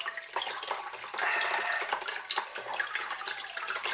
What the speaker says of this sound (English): I know you got the noise of me running the tap